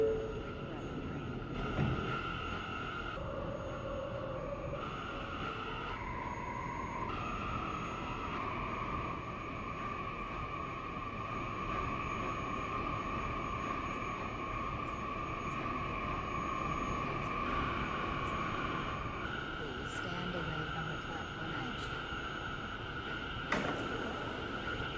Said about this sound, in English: This is a Queensbound A express train.